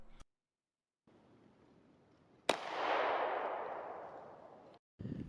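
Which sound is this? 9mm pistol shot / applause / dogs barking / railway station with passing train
9mm pistol shot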